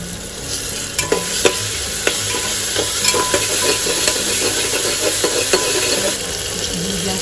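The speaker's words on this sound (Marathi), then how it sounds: "आपल्याला कांदा आणि टोमॅटो चांगल्या प्रकारे शिजवायचं आहे" Onion and tomato sizzle and fry in a pan for a stuffed brinjal curry, with steady stirring scrapes and clicks over a continuous frying hiss, close and fairly loud, no talk.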